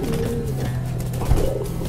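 Pigeons coo nearby in low, rolling calls, one swell rising clearly near the end over a steady background hum of other birds.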